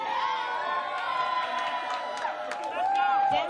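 A crowd at a house dance battle cheers and shouts in a continuous roar, with whoops rising over an announcer's amplified voice.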